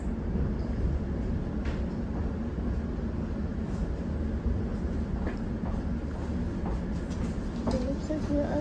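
Elizabeth line train running toward Heathrow Terminal 5, a steady loud low rumble of the carriage in motion with faint rail clicks, heard from inside, with an announcement voice over it.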